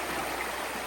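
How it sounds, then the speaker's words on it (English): A large murky creek in the Yukon flowing steadily, a soft continuous rush of water that is faint and even, with no voices. "But yeah, it's quite a murky,"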